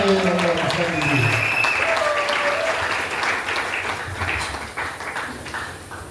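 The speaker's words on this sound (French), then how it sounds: "nous l'encourageons par nos acclamations" Applause from a church congregation at a Sunday service in Lubumbashi, a sustained round of clapping throughout, with voices and sung or called tones over it.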